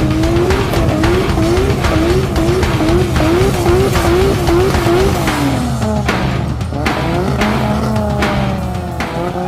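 A drag racing car with a modified turbocharged 2JZ engine roars loudly and continuously nearby, its engine note pulsing as tires squeal.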